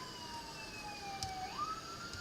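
Quiet siren sound effect on a livestream, a single wailing tone sliding down and then back up over a faint background hiss.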